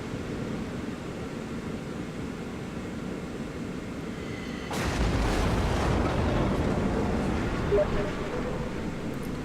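A naval gun salvo lands on an enemy ship in a video game, a sudden deep rumbling boom midway that rises over a low background drone and lingers.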